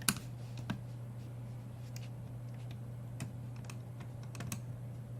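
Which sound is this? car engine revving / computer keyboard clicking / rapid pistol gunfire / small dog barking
computer keyboard clicking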